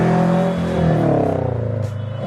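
A 2022 Subaru BRZ engine revs hard after a downshift into first at a street car meet, a loud close rising drone that climbs in pitch and then settles into a pulsing rumble.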